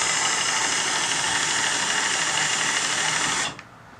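A Razor Delta Drive unit running in high gear gives a steady, loud motor whine with a bright mechanical hum that holds evenly for about three and a half seconds, then cuts off abruptly as it stops.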